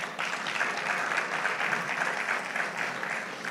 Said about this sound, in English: So I think you should clap for yourselves, right?